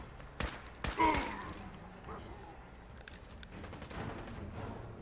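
Heavy .50 caliber gunfire in the video game Fallout 4, a couple of sharp loud shots early followed by scattered fainter bursts, with a voice talking underneath.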